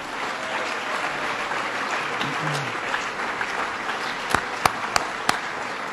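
A crowd applauds continuously at an awards event, a wash of clapping with a few sharp, louder claps near the end.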